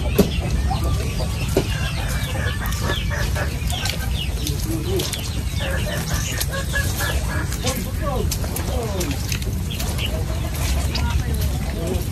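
Several chickens cluck and murmur continuously near a hut in rural Tarlac, Philippines, with voices talking over the steady flock noise.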